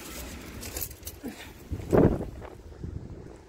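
Strong, gusty wind rumbles and buffets outdoors, rising to a loud blast near the middle before easing back to a rough, steady rush.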